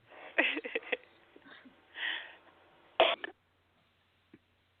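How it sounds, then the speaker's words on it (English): A few short, raspy coughs and throat-clearing bursts, close and fairly quiet, separated by pauses, ending in near silence with one tiny final sound. "I think she's coughing again"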